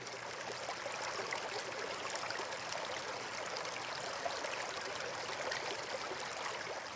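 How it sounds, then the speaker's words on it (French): A flowing stream babbles steadily at moderate distance, a soft continuous rush and trickle of water with no voices, serving as a calm relaxation backdrop. "Et vous entendez couler le ruisseau de vie autour de vous."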